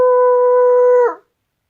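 A person imitates a female wolf howl with one steady, loud, close, tonal howl lasting about a second. It cuts off sharply and silence follows.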